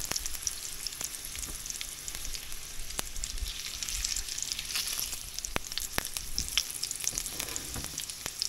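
Carrots fry in a pan for pork mechado, giving a constant crackling sizzle with scattered sharper pops and occasional stirring clicks, close and without talk.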